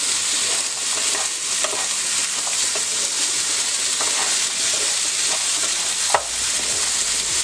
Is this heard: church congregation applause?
no